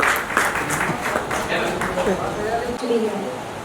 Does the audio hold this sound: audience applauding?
yes